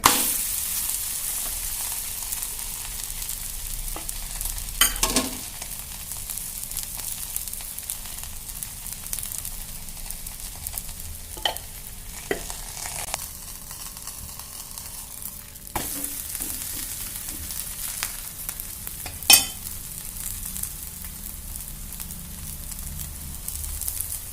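Thalipeeth made from leftover rice fries in oil on a pan with a continuous close sizzle, occasional sharp clicks and scrapes cutting through the steady crackle.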